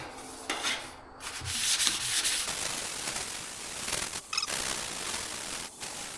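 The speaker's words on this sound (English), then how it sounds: "gonna go ahead and sand this up with some 500." A classic car panel is hand sanded with 500 grit sandpaper, giving close, loud scratchy rubbing strokes that repeat with brief pauses over about six seconds.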